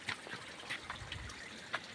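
Water trickles from a garden hose outdoors, a thin continuous dribble with a few small splashy bursts, close and fairly quiet.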